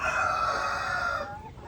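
A Rhode Island Red rooster, a parent-stock breeder bird on a backyard farm in Davao del Sur, crows once loud and close, the long call tapering off near the end.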